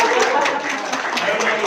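An audience at a music press conference gives a short burst of scattered clapping, fairly close and uneven, while people keep talking over it.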